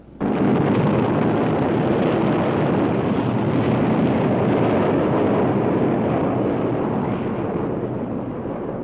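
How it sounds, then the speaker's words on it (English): A four-stage solid-fuel Standard Scout booster rocket launching a navigation satellite, a loud, continuous roaring rumble that starts abruptly and holds steady for nearly nine seconds. "A 4-stage solid-fuel Standard Scout booster is currently used to lift the satellite"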